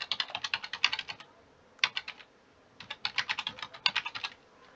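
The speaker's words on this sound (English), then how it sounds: "so I'm going to type it in." Rapid keystrokes on a computer keyboard as a password is typed in, close and crisp, in several quick bursts separated by short pauses.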